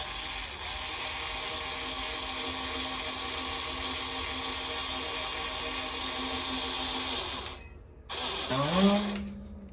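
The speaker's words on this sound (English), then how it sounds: "Use the winder and hold, doing this tension thing to orient the string." A string winder turns steadily to wind a new string onto a vintage Martin guitar, giving a close continuous whirring buzz. It stops briefly, then the string rings with a rising twang as it tightens.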